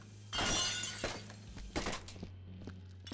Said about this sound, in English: That was a lot of smashing.